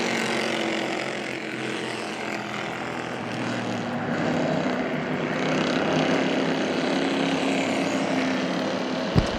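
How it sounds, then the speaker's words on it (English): 4-cylinder race cars run a feature at Hagerstown Speedway, their engines making a continuous droning roar that swells and fades slightly as they circle the track at a distance. "4-cylinder drivers for your 20-lap feature."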